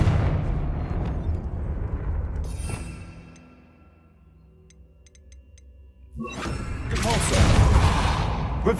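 The Confringo explosive spell in Hogwarts Legacy, loud fiery blasts that boom at the start, fade into a quieter lull, then erupt again in a heavy, rumbling burst near the end.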